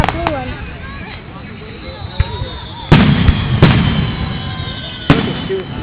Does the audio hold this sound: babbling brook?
no